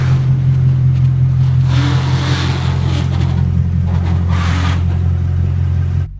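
A Lexus IS F engine with its muffler removed rumbles loudly and steadily with a deep, throaty tone, swelling in a couple of revving surges before cutting off abruptly at the end.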